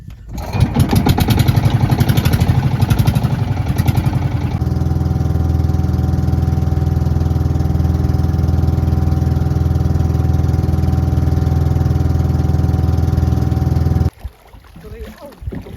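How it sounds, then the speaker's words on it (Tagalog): A fishing boat engine drones steadily and loud through a traditional night fishing trip in the Philippines, with voices talking over it early on before the steady hum carries on alone and then cuts off sharply near the end. "Andar na namin tong aming barko."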